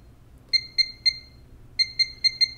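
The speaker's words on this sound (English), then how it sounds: "it will beep at me with the Jerk Alert and it will give me a red light." A Jerk Alert shooting training device beeps in short sharp electronic bursts, three quick beeps, a pause, then a faster run of five or six, clear and close with faint background hum.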